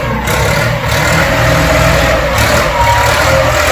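An Orion RD-244 24-horsepower tractor on wide 112x24 tyres runs with a loud, steady mid-pitched engine drone, close by and constant without any revving.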